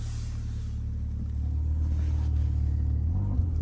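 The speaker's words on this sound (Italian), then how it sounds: "Già senti lo scarico che tende un attimino ad aprirsi." Mercedes A45 AMG from 2017 in Sport Plus mode, its exhaust giving a steady low rumbling drone that swells slightly midway, heard close and continuous without talk.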